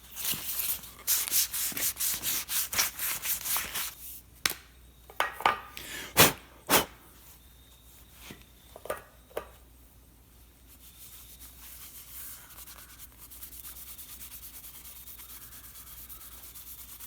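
A small firewood billy club is smoothed by hand as it spins on a lathe, giving a quick run of rubbing, sanding scratches. These break into scattered sharp knocks, then fade to a steady, soft whir of the lathe.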